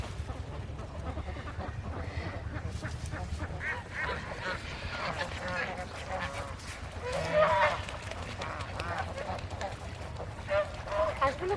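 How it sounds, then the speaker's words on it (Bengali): Ducks quack repeatedly at a village pond, a busy flock calling close by in overlapping bursts, with louder honking squawks near the middle and end. "হাঁসগুলো কত আনন্দ করতেছিল।"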